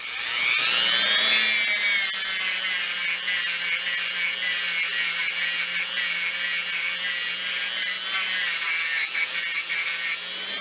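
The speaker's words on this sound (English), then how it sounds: "We mount two flappers, and this is about a medium grit nylon flapper." A medium grit nylon flap wheel on a spinning motor polishes vacuum tube pins with a loud, steady high-pitched whine and abrasive rasp that runs continuously for about ten seconds before tapering off.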